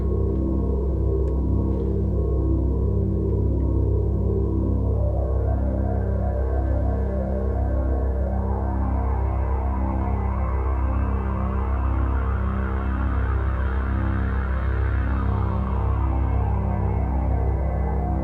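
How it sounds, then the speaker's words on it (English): A sustained Roland SH-4d synthesizer drone thick with harmonics, its filter opening to brighten the tone and excite a shimmer reverb, steady, loud and unbroken with no voices. "you see the kind of difference that the filter makes in exciting the shimmer verb"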